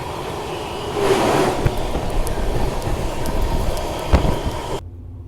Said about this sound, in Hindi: इसके पीछे पीछे ही आ रही है हमारी आनंद विहार टर्मिनल से चलकर कामाख्या के बीच चलने वाली नॉर्थ ईस्ट एक्सप्रेस